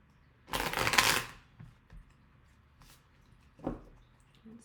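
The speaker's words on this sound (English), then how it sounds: "I did switch my decks and I just did shuffle them all again" A quick riffle of tarot cards being shuffled, followed by soft taps and a second, shorter card flutter, close and quiet.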